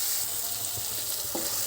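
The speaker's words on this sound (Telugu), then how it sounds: "దీన్ని బాగా మిక్స్ చేసుకుంటున్నాను అనమాట" A spoon stirs a mixture with coriander and turmeric in a hot pan. The sizzle runs steadily with a few sharp scraping knocks near the end, and no one speaks.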